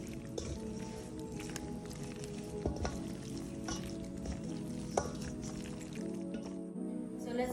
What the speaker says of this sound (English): I'm gonna add 1/4 cup of water and let's go mix it again.